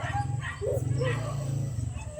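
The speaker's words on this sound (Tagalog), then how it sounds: "Wala, may aso dun." A dog barks outdoors near a parked motorbike, a few short yaps mixed with whimpers over steady low engine-like hum, while people talk close by.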